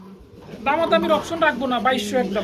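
Pigeons coo in a series of close, throaty calls at a pigeon farm, heard briefly alongside a voice.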